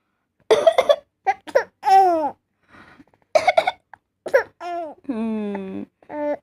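Adults give several short bursts of coughing alongside a three-month-old baby's higher, voiced squeals and babbling, close and intermittent with quiet gaps between them.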